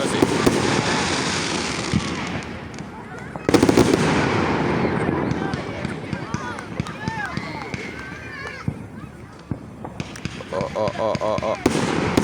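Fourth of July fireworks burst around a neighborhood, with repeated sharp bangs and crackling going off one after another at near and middle distance, under people talking and exclaiming.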